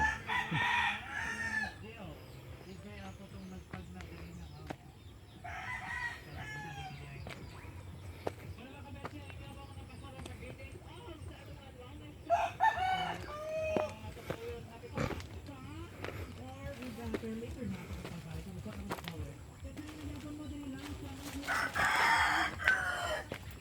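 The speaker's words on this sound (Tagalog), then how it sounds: "Asa siya mga buhi nga manok." Live chickens with a rooster crowing several times from the middle distance outdoors, its calls rising in bursts at the start, around the middle and at the end, under someone talking almost throughout.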